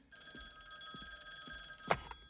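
A telephone rings steadily in a French-dubbed film scene, a bright sustained electric bell tone heard alone and fairly faint, followed by a short knock near the end.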